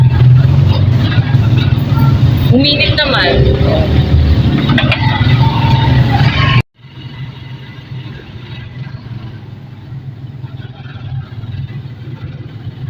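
A motorized tricycle rumbles along steadily with a loud, continuous engine drone; midway the sound drops to a quieter, muffled running engine, with people talking briefly over it.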